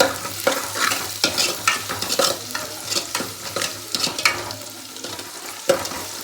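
Toor dal and radish for sambar fry in a pan with a soft, steady sizzle, broken by repeated scraping and stirring strokes of a spoon, with no talking.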